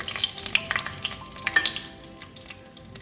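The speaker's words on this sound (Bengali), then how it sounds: "এবারে এই সমস্ত ফোড়নগুলো দিয়ে দেবো তেজপাতা আছে দারচিনি দুটো ছোট এলাচ আছে এটা দিয়ে দেবো" Bay leaf, cinnamon sticks and small cardamom pods sizzle in hot oil close by, with a dense crackling hiss and scattered sharp pops over about three seconds.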